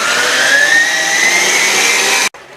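An electric mixer whirs steadily through a chocolate cheese triangle mixture, loud and close with a slowly rising pitch, then cuts off abruptly near the end.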